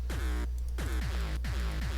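Deep, booming layered speedcore kick drum hits repeat in a steady rhythm, each one a punchy thump with a falling pitch, over a constant low hum.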